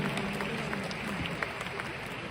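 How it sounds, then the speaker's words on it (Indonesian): An audience at an international Riway company event applauds, a dense continuous wash of clapping heard from within the crowd, steady throughout with no voice over it. "Kita pantas beri tepuk tangan yang paling meriah untuk Riway Internasional."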